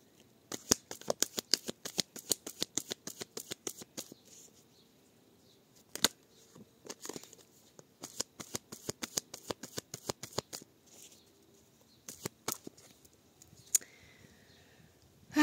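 Tarot cards being cut and shuffled at close range: quick runs of crisp riffling clicks in several bursts, with short pauses between them and a few louder single snaps, no talking.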